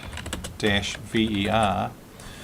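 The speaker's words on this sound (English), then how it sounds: "So if I go on to the command prompt here, and if I just type mystic-ver" A few quick keystrokes on a computer keyboard as a command is typed at a Windows command prompt, close and light, followed by a voiced tone.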